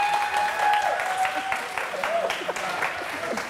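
A short burst of audience applause rises and fades in a hall, moderately loud clapping mixed with speech and a few tonal whistles.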